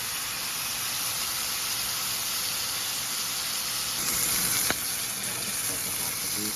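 A rib eye steak frying in butter in a pan over medium heat gives a steady, fairly quiet sizzle throughout, with one brief sharper pop near the end.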